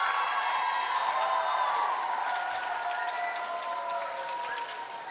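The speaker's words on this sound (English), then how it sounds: "let's have a big cheer for all our prizes" A school audience gives prize winners a sustained round of cheering and applause at a reading announcement event. The crowd noise is loud and dense at first and fades slightly toward the end.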